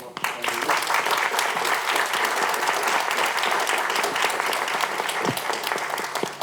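A panel audience at a healthcare sustainability event breaks into steady, full applause that holds for several seconds, with a brief low thump near the end.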